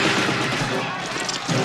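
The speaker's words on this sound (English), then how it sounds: "They're shooting at us." Gunfire in a scene from the 1986 film Salvador, set amid chaos in El Salvador, as a dense, continuous crackle of shots under a loud, busy mix with voices present throughout.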